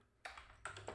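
A few quick keystrokes on a computer keyboard, close and faint, tapping in two short bursts.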